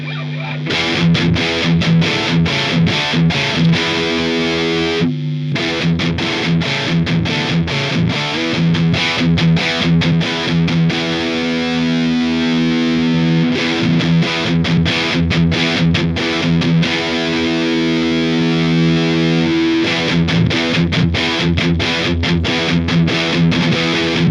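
A heavily distorted electric guitar through a Line 6 Helix amp modeler plays loud, chugging chords and riffs continuously, with brief pauses between phrases.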